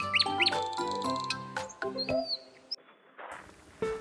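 A nightingale singing, a quick run of bright chirps, trills and whistled notes, fairly close and moderately loud, with short pauses between phrases and no talking over it.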